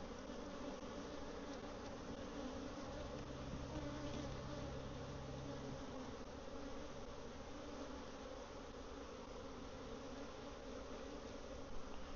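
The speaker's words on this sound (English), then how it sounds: "there's a lot of bees" Honey bees swarm around a hive during a split, a steady dense buzzing drone that stays fairly close and even throughout, with no speech over it.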